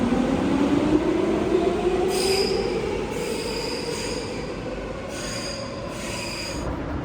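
An Athens metro train rumbles steadily with a loud, sustained wheel squeal that rises and falls in pitch, heard from close by with no voices.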